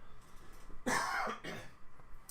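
A single harsh cough from someone getting over a respiratory infection, close and fairly loud against a quiet room, with a shorter follow-up burst trailing after.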